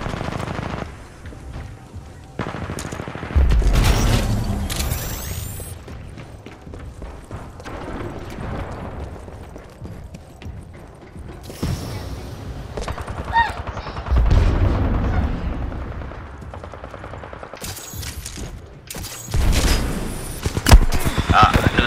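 Rapid bursts of automatic gunfire and shots crackle throughout a video game firefight while players talk excitedly over the loud, continuous action.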